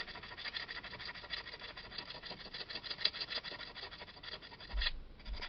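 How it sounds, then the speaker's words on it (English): Steady rasping of sandpaper rubbing away dried glue on a decorated pot, a close, continuous scratchy texture with a slight rhythmic back-and-forth, no talking. "so I'm just going to use sandpaper to remove that"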